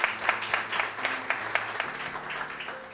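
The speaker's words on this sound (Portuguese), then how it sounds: "os irmãos aplaudissem pela vida do Pedro aqui ao Senhor, em nome de Jesus" A church congregation applauding together, a steady wash of many clapping hands with a faint tone and light speech underneath.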